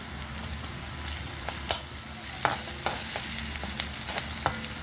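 Tomatoes sizzle and fry in a hot pan, a steady crackling hiss with a low hum beneath and a few sharp stirring clinks and pops scattered throughout.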